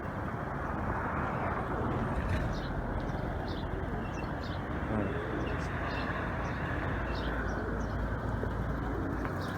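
Pigeons cooing and calling faintly over a constant, heavy outdoor rumble, with scattered chirps throughout.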